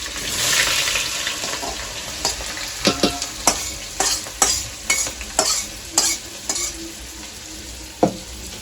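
Onion fries for biryani in a pot on a wood-fired stove: a hiss of frying underlies a run of sharp metallic scrapes and knocks from stirring, spaced irregularly about every half second to a second.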